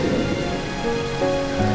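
Rain falls in a steady, dense hiss of drops striking surfaces, moderately loud and unbroken, under a soft background tone with no voices.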